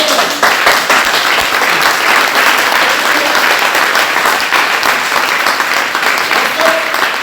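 A congregation at a Tuesday teaching service clapping loudly and continuously in acclaim, a dense close wash of applause with scattered cheers.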